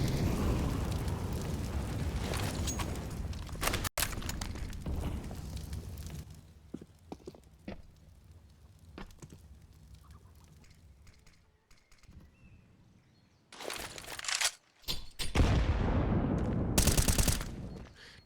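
Counter-Strike match on the Inferno map in a professional esports series, with a grenade blast and bursts of gunfire; loud rattling and booms early, a quieter stretch of scattered shots, then heavy bursts of fire near the end.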